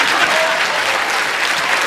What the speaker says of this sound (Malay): Tepukan untuk Dato' M.